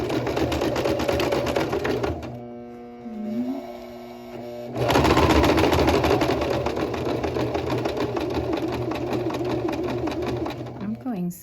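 A sewing machine back stitches along a shirt seam, running in steady mechanical bursts with a short pause in the middle, close and fairly loud, with a voice faintly audible beneath it.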